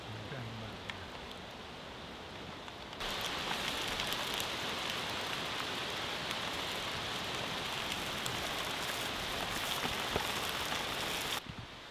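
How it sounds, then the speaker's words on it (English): Heavy torrential rain pours onto the roof of a handmade medieval-style Saxon bushcraft house, a dense, steady roar that swells loudly after a few quieter seconds and holds unbroken before easing at the very end. "it is heavy torrential rain up there"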